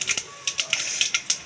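Mustard seeds splutter in hot oil while tempering rasam, giving a quick series of sharp, close crackling pops at an uneven rhythm, with no talk over them.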